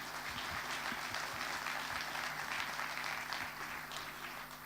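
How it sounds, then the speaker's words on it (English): Conference audience at a road maintenance session in Nice applauding, a steady, even wash of many hands clapping at moderate distance over a low constant hum. "a round of applause."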